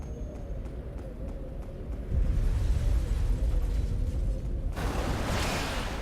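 A Blazing Bullet attack in the video game Phantom Dust, a low rumbling burst that swells up, then a bright whooshing blast breaking in near the end over continuous game background noise.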